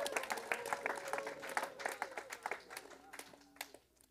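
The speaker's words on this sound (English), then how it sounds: "Give God a clap offering tonight." A church congregation at an evening gospel service claps as an offering, a lively run of sharp, fairly close hand claps that thins out toward the end, with voices underneath.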